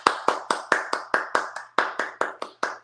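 Hands clap in a steady, even rhythm, about a dozen sharp, close claps spaced roughly a quarter second apart, loud and alone with no talk.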